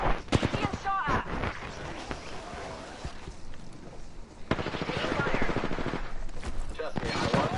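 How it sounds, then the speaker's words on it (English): Gunfire in a shooter video game: clusters of sharp shots and rapid bursts, some close and loud, trading back and forth with quieter gaps, while voices talk over parts of the fight. "Being shot at."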